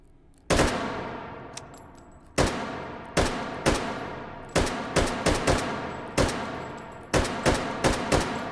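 Repeated rifle shots fired through magnified scopes in the H3VR virtual reality shooting game, loud sharp reports in irregular single and double bursts with ringing decay, no talking.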